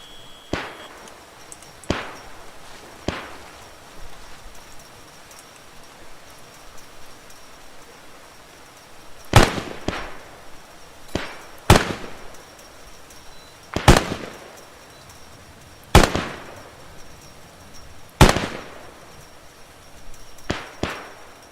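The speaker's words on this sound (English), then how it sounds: "unholster your Garand, Johnson, head over there, and send 2 clips downrange" M1 Garand rifle shots fired downrange at a training range: a string of sharp, loud single cracks at irregular intervals of one to three seconds, each followed by a brief echo, with quiet gaps between.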